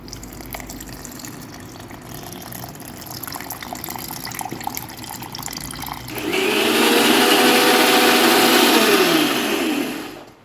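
Quiet handling and water sounds, then a mixer grinder grinding gooseberries with water roars to life and whirs loudly for several seconds before cutting off.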